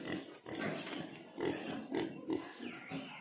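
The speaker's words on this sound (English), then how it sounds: "This one's a cute little pig." Small pigs on a farm grunt in short, close bursts, several distinct grunts spread across a few seconds with steady farmyard background noise.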